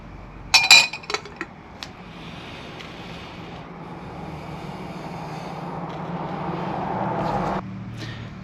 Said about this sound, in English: I'm going to move the beads closer to the side of the glass so we can see the beads better.